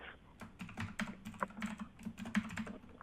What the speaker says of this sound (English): Do you want me to type it out on the screen for you?